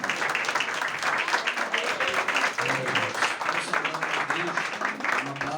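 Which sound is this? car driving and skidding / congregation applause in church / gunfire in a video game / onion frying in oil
congregation applause in church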